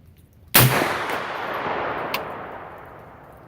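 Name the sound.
rifle shot, supersonic 225 grain Hornady FTX load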